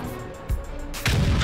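A tank cannon fires in World of Tanks and the shell strikes an enemy vehicle, making a short sharp blast, then a second heavy boom, over low background rumble.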